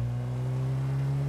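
An old car's engine in GTA V with a zombie realism mod, holding a steady, loud, low drone throughout with no clear rise in pitch.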